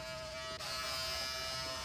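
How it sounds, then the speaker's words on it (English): A Wahl electric shaver buzzes steadily with a high electric whine as it skins hair close to the scalp during a barber fade, with a brief dip in the hum partway through. "I will then take my Wahl shaver"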